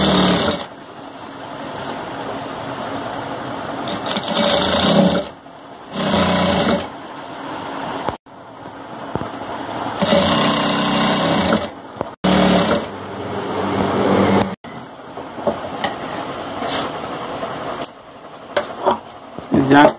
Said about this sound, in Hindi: अब इसको भी उसी हिसाब से चाप सिलाई चला लेंगे जांग पे।